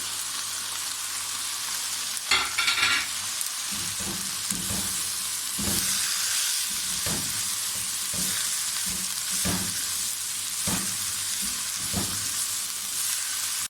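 Chilies, cabbage, carrot, corn and spring onion stir-fried in a pan, a steady close sizzle broken by repeated scraping strokes of a spatula at a loose, regular rhythm, with no voices.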